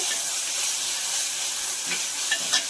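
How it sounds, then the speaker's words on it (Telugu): Onions with ginger garlic paste frying in a pan, a steady loud broadband sizzle with faint stirring scrapes near the end, no voices. "అల్లం తెల్లగడ్డ పేస్ట్ కూడా వేసుకొని పచ్చి వాసన పోయేంత వరకు వేయించుకున్నామండి"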